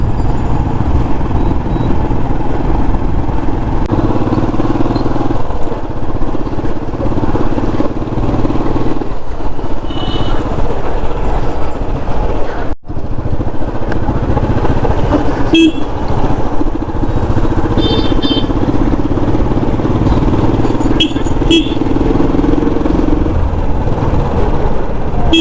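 A Royal Enfield Classic 350 motorcycle runs on a short ride, a loud, close, steady engine thump with shifting revs, a brief drop near the middle and a few faint horn beeps.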